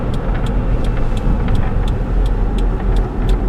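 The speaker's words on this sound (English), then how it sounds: "it does do the typical little tranny whine coming out of first gear" Cabin sound from a 2006 Honda CR-V SE accelerating out of first gear on the way onto a highway, with a steady loud road and engine drone; any faint transmission whine sits within the broader noise.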